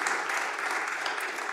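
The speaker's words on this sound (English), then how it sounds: "I think we can get an applause for the first example." An audience at a presentation event gives a short round of steady applause, dense and uniform from start to finish.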